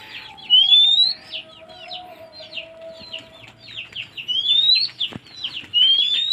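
Kacer (magpie-robin) birds chirp in a backyard, repeated bright whistled notes and rapid chattering phrases in bursts, with a low hum underneath and a sharp knock near the end.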